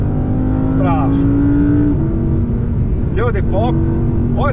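An Audi R8 V10 Plus engine accelerates hard during a street race, its loud, close note climbing in pitch before a brief drop and another surge, with voices talking over it.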